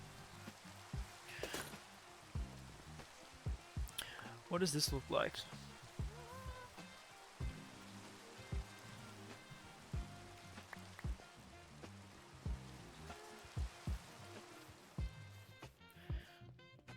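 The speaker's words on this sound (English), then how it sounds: "this rain is annoying." Steady rain falling in Minecraft during hardcore survival play, a constant soft patter under a voice, with scattered game clicks and thuds.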